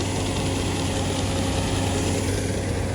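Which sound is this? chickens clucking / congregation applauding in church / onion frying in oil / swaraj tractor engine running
swaraj tractor engine running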